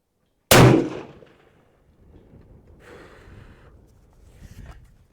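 A single suppressed rifle fouling shot from a cold, clean bore on a new Outlier barrel, one sharp close crack with a short decay, followed by faint handling noises and low background murmur.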